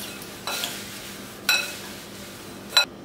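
A Kerala aval chivda mixture of beaten rice is stirred in a pan. A faint sizzle runs underneath while three distinct scraping, clinking strokes of the spoon sound against the pan.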